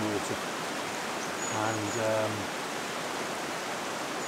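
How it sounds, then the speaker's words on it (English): Shallow, fast-running stream water rushes steadily in the Lake District, a broad, even wash of noise under brief speech from a nearby man. "there's a patch just ahead of me, about 50 yards of some shallow, fast running water."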